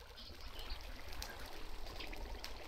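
Water splashing in a Minecraft mushroom farm minecart loop, a continuous gentle stream of flowing water with faint splashy flecks, quiet and steady throughout.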